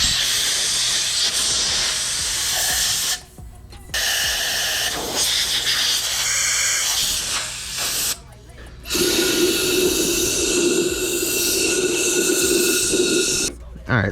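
Compressed air gun blowing off a part before powder coating, loud sustained hissing blasts broken by short pauses, with a person talking over it.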